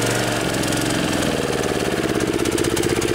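A Kawasaki 6.75 engine on a DR walk-behind trimmer, choked manually after sitting too long, runs close and loud, its steady chugging note climbing as it revs up, with no talk.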